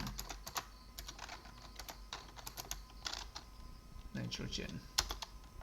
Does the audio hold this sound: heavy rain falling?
no